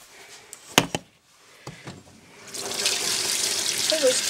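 A few clicks and knocks come first, then a tap opens and water pours steadily into a glass for a drink, a close, continuous rushing that lasts to the end.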